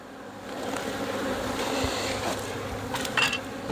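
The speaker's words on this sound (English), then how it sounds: "See lots of bees there." Honey bees buzz steadily on packed hive frames after a swarm attempt, a dense continuous drone close by with a few louder passes near the end.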